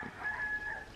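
Rooster crowing loudly and close by at a backyard run for ducks and chickens, a single sustained crow in a quiet setting.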